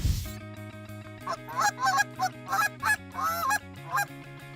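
Geese honk repeatedly in overlapping calls, fairly close, over a steady low drone, with no talking, during a goose hunt.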